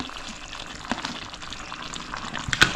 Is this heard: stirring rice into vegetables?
yes